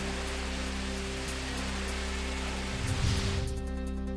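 Heavy unseasonal rain pours in Hinjawadi, Pune: a steady, dense hiss of downpour that swells slightly toward the end, with no voices.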